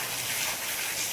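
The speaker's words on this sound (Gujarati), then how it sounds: "વરસાદ પણ ફૂલ ચાલુ થઈ ગયો છે" Heavy rain pours steadily at a temple in Dabhsar, a dense, continuous hiss of falling water with no voices over it.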